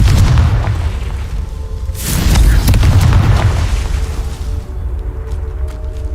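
A Confringo spell goes off in Hogwarts Legacy as a loud, close magical explosion, a heavy boom that bursts in and then rumbles away, with an earlier blast fading and a short spoken word at the start.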